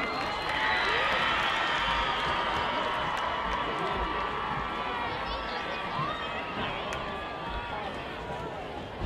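Spectators at an Oxnard vs Pacifica high school football game cheer for the Pacifica High School cheer squad, a broad, sustained roar of voices and scattered clapping that holds steady and slowly eases.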